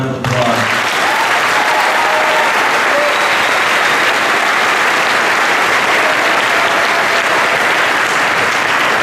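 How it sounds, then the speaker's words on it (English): Sustained audience applause for students at a school promotion ceremony fills a hall, dense and even from start to finish, with a brief voice at the very beginning. "Please give these students a final round of applause."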